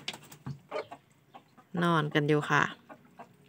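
Fighting cocks kept as backyard poultry cluck in short bursts, several close calls clustered near the middle, while someone speaks softly over and between them.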